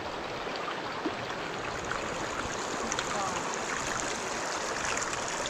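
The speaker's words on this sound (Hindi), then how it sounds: "यहाँ पे थोड़ा हैवी है भाई वाटर, पर इतना क्लीन है ना भाई पानी" A clear, fast mountain stream rushes close by with a steady, dense wash of flowing water that stays even throughout.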